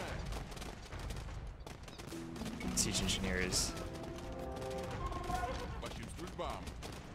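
Gunpowder cannon fire in the Age of Empires II Dawn of the Dukes campaign, with Hussite wagons fielded, booms out in a dense, continuous barrage of battle noise while someone talks over it and short in-game voice lines play.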